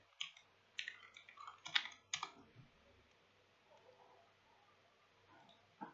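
Keys clatter on a computer keyboard in short irregular bursts of close, crisp clicks, with a few quieter taps trailing off afterward in a hushed room.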